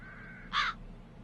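A single crow caw from the video game The Dark Eye: Chains of Satinav, one short harsh call over quiet ambient background.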